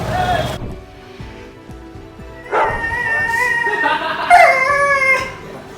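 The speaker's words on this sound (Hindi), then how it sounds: "तेरा कुत्ता।" A dog howls and whimpers in drawn-out, wavering cries, starting near and loud, fading, then swelling again with yips toward the end, with voices talking around it.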